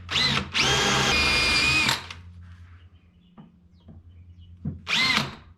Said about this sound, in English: I drill a pilot hole first, because apparently it's harder on the big drill bits if you don't